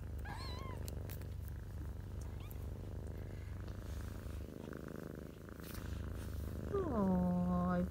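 A mother cat purrs steadily while nursing her kittens, a close, continuous low rumble that runs throughout; toward the end a loud, drawn-out meow rises above it.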